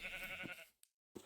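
A sheep bleats in a video game, a short animal cry that fades out, followed after a brief silence by a second clipped burst.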